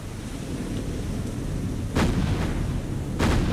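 Naval guns firing at a ship in the game War on the Sea: two heavy booming salvos about a second apart, loud over a steady rumbling background of sea and engine noise.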